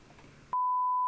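A radio repeater answers a ham transmission on a quarter-wavelength antenna with a steady, loud electronic tone that sounds alone for about half a second after a brief burst of static hiss cuts off.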